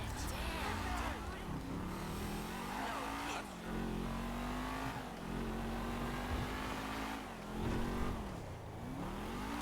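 A car in a video game drives with a steady engine drone that rises and falls through repeated revs and gear shifts, while a voice talks over it.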